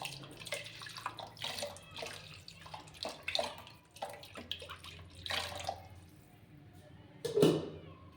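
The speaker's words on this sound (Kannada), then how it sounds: "ಇದು ಜಾರಿನ ಕ್ಯಾಪಲ್ಲಿ ಒಂದು ಸ್ವಲ್ಪ ನೀರು ಹಾಕಿ ಹಾಕ್ಕೊಳ್ಳೋಣ." Water is splashed from a mixer-jar lid into a jar to rinse out fish curry masala, a moderate watery pouring and sloshing with a brief louder splash near the end.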